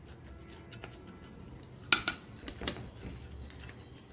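Bowl or spatula scraping and clattering against a dish while sukhdi mixture is spread, a few close clinks and scrapes at a quiet level.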